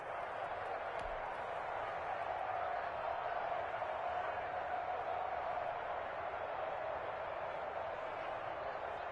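Steady roar of a video game football stadium crowd cheering ahead of a big third down, a continuous broad wash of noise at moderate level.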